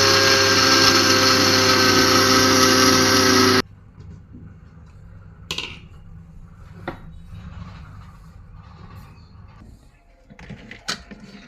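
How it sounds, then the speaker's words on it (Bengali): An electric blender grinds rice and lentils into gram flour, a loud steady whirring motor for a few seconds that cuts off abruptly, followed by quiet kitchen clinks and knocks. "বেসনের চাল ডাল এগুলো আমি ব্লেন্ডার করে নিচ্ছি"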